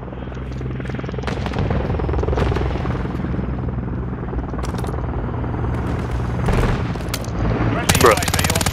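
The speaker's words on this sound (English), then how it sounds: "Yeah, that chopper got me." Helicopter in Call of Duty Modern Warfare 3 hardcore domination multiplayer, a constant loud rotor drone under bursts of machine-gun fire and scattered gunshots and booms throughout the scene.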